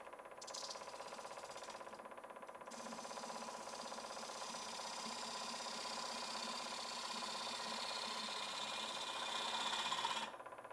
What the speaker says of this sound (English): I believe I will do that with my spindle gouge, at least to start with